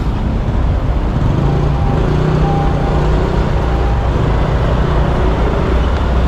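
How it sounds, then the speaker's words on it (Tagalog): Steady, loud roar of trucks and other vehicles passing close along a dusty roadside, a continuous wash of engine and tire noise with no pauses. "Grabe, nasa gilid na sila"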